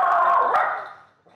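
A pet dog barks at animals shown on a TV, one drawn-out, whining bark close by that fades quickly.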